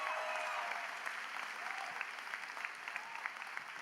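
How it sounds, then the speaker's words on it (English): Applause from a crowd at a high school graduation ceremony, a dense, sustained patter of many hands clapping at a moderate distance, fairly even and without talk. "I think we can clap a little louder for that."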